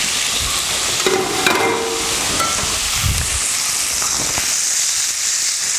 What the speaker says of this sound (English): when we go ahead and add our beef, what we're looking for is that we're actually going to brown the outside of the beef